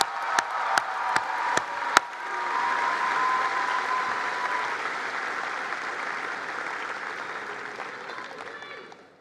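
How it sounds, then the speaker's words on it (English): A graduation ceremony audience breaks into sustained applause, a few sharp individual claps opening before a broad wash of clapping from the crowd that slowly fades out over about nine seconds. "Could we please recognize them with an applause?"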